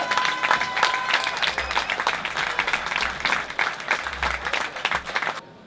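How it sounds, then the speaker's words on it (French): A crowd applauds the winner of a 58 km trail race, the 2014 edition, with dense, lively clapping close by that continues steadily before cutting off abruptly. "On peut alors là vraiment applaudir et réapplaudir le vainqueur de cette édition 2014, Christophe Ardur."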